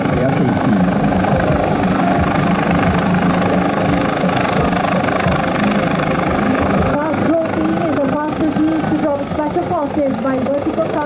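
A Malaysian armed forces helicopter thunders loudly and continuously close by, its rotor chop and engine roar filling the scene, with voices faintly audible beneath.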